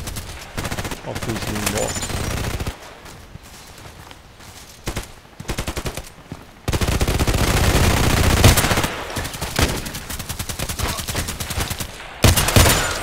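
Gunfire from an SKS carbine in the video game Contract Wars, with dense bursts of shots and explosive cracks in two loud stretches around a quieter middle, and a voice speaking briefly.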